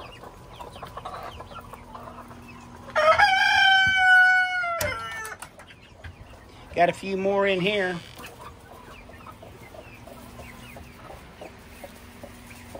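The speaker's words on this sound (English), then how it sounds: "Gotta be careful where you step now. You might just step on a chicken." Hens clucking and a rooster-like squawk inside a hen shed, two loud bursts of cackling close by, with someone speaking briefly between them over quiet background.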